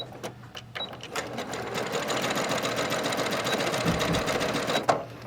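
A sewing machine stitches vinyl for a bag, running in one steady, close, continuous whir of rapid needle strokes that stops abruptly near the end.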